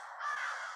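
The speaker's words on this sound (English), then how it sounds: "Hopefully you're not all just hearing the crows back in my yard, which are awesome." A single harsh crow caw, short and raspy, heard alone at a moderate distance.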